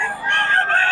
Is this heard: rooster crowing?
yes